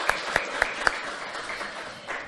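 Audience applause after a French lecture on Pan-Africanism, a few sharp claps standing out at the start over a steady, moderately distant patter of hands.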